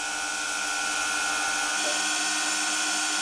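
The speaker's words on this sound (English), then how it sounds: "That was the clutch kicking in, and you can hear there's a bit of shake" An old scrounged motor drives a homemade plywood table saw, a steady loud whining hum with layered tones; partway through, the clutch engages and the low rumble drops away while the whine carries on, slightly shaky, without talk.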